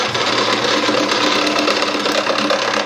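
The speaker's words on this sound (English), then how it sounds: "This is a little homemade gouge that I made years ago." Wood lathe roughing down a table leg with a homemade gouge, a dense, continuous whirring and chattering scrape, loud and close with no voices.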